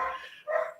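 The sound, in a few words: dog barking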